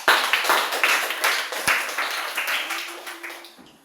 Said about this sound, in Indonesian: Terima kasih dan tepuk tangan buat kelompok Umar.